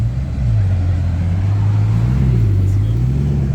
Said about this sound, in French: Les amis regardez Bugatti, wow, j'ai bugué. Bugatti Chiron 110 ans from Dubaï.